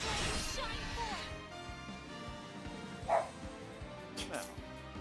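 A dog behind a shut door barks in the background, with a few muffled, distant barks and yips breaking through steady game music, one bark standing out slightly louder midway.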